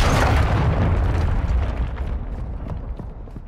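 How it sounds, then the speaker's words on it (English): A cruise missile strike explodes in the video game Call of Duty: Modern Warfare II, a loud, close boom that bursts at once and then rolls off into a long, fading rumble with crackling debris. "Friendly cruise missile approaching target."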